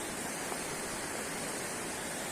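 A large waterfall in winter, a steady dense rushing roar of falling water heard continuously and fairly close, with no voices.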